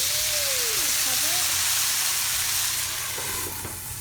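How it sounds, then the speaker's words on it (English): Chinese dumplings in a pan hiss and sizzle loudly after water is added to steam them, a steady close crackle with a brief voice tone near the start. "You then very carefully put in water so it's going to steam."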